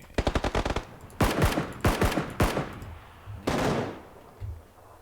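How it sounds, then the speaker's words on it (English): Rapid automatic gunfire in PUBG opens with a fast burst of sharp shots, followed by several louder, heavier single reports and a final trailing shot, close and punchy with no talk. "Was that you just firing then?"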